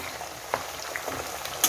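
Oil heating in a pan on a medium flame for homemade hair oil gives a faint, steady sizzle with scattered soft pops and crackles throughout.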